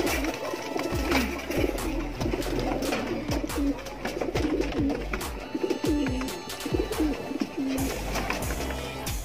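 Racing pigeons in a training loft in Concepcion, Tarlac coo in repeated low, throaty phrases, several birds close by and overlapping, with scattered wing flutters and light knocks throughout.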